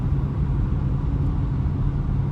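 A car rolling slowly at low RPM produces a steady, dense low rumble that stays loud and unchanging throughout, with no voices heard.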